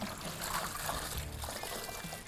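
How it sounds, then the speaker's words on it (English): A foam air filter is pushed into a tub of water mixed with Maxima BioWash, making soft, close sloshing and trickling sounds without any talking. "So we've got water and Maxima BioWash in there. Going to submerge the filter,"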